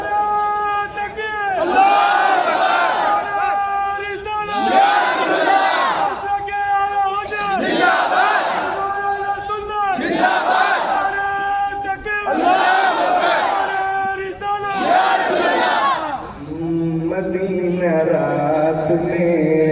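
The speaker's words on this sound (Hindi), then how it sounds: "उस हिसाब से नारा बहुत कमजोर है आपका" A large crowd at a mosque gathering chants a slogan in loud rhythmic bursts, repeated about six times with short gaps between, the unison voices booming near and strong before a single voice takes over at the end.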